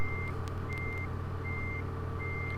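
A truck's reversing alarm in Euro Truck Simulator 2 beeps steadily, with four evenly spaced tones over a constant low engine drone and no talking.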